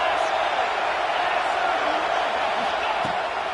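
A large football stadium crowd roars in a constant, dense wash of cheering, with a commentator talking over it.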